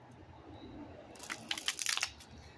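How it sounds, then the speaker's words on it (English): Oracle cards being shuffled by hand: a short burst of quick papery riffling and slapping that starts after a quiet moment and lasts about a second, close and fairly faint. "One more shuffle."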